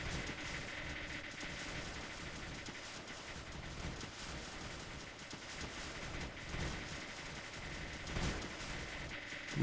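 Launchers in the strategy game Creeper World 2 fire in a dense, continuous barrage of rapid blasts, busy and fairly loud throughout with no pause.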